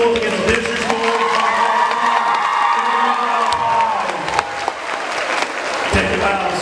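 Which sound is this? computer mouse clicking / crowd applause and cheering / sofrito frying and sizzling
crowd applause and cheering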